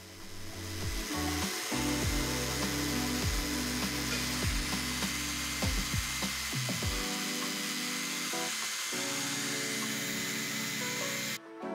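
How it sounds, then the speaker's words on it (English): Jigsaw fitted with a very fine metal blade cutting through new boat window material while building a hard dodger for an H28 sailboat, a steady close buzzing with a rhythmic stroke pattern that stops near the end. "I used a very fine metal blade on the jigsaw"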